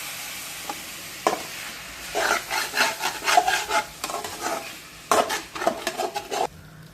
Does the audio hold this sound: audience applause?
no